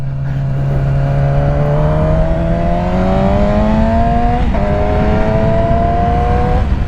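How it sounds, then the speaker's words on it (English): Yamaha YZF R6 four-cylinder sport bike, a 2007 model, revving under throttle, one loud close high-pitched engine note climbing steadily, with a brief dip partway through as a shift or throttle change, then holding high. "God, the way these old Japanese four-cylinders sound, it's so addicting."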